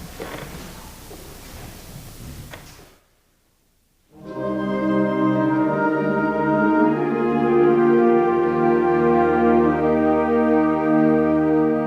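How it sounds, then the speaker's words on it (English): A band sustaining a slow, legato chorale in rehearsal, rich held chords changing smoothly and filling the room, entering loudly after a short silence that follows faint room noise at the start. "So if we have a chorale that sounds like this."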